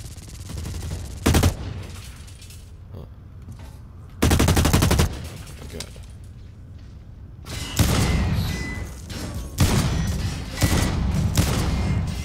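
Gunfire in the first-person shooter Blacklight Retribution, loud bursts of rapid automatic fire in several sharp strings separated by short quieter gaps, with heavier sustained volleys toward the end.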